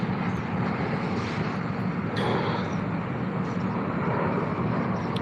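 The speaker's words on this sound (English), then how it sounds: "Planes flying by, because I'm not far from the airport." An airplane flying near an airport makes a loud, sustained broadband roar throughout, steady and close, heard from outdoors while fishing.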